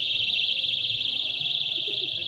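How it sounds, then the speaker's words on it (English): Alarms on balloons flying around a Just Stop Oil banquet blare a steady, piercing high tone that carries on without a break over a low murmur of room noise. "which had alarms blaring off"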